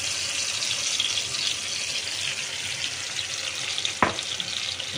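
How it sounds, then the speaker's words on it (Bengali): Hilsa fish pieces sizzle and fry in hot mustard oil tempered with black cumin seeds, a steady close hiss with a brief louder crackle near the end and no talking. "কালো জিরে ফোড়ন দেওয়ার পর এবার মাছগুলো আমি দিয়ে দেবো"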